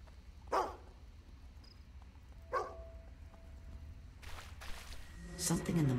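A dog barks a few times in Fable 2, with sharp separate yelps spread over several seconds at moderate volume over quiet game ambience.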